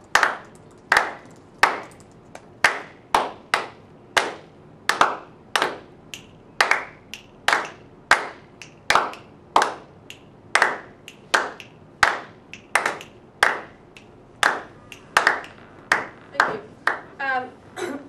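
A class claps a rhythm together in crisp, loud hand claps over about eighteen seconds, grouped in a patterned beat with uneven spacing, while a few faint voices come in near the end.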